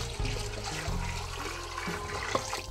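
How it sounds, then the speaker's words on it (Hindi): About 25 liters of water pours into a large pot for boiling rice, a steady rushing splash and trickle that continues without pause for a few seconds. "चावलों को बॉयल करने के लिए एक बड़े बर्तन में हमने लिया है 25 लीटर पानी।"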